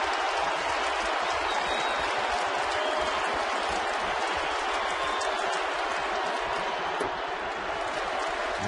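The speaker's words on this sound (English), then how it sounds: "The crowd getting into it again." Yankees home crowd at a baseball stadium against Boston, a steady broad roar of cheering and clapping filling the whole stretch without letup.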